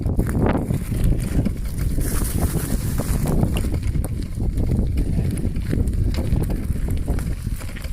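A bicycle rolls over gravel on the Isle of Bute, with a continuous close crunching rumble mixed with wind buffeting on the microphone.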